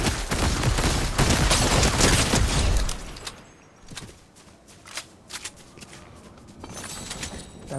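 Bursts of rapid gunfire from a Fortnite match crackle loudly for about three seconds, followed by scattered, fainter shots and clicks.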